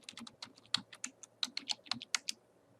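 Password typed on a computer keyboard, a quick irregular run of about fifteen crisp key taps, close but quiet, with no talking.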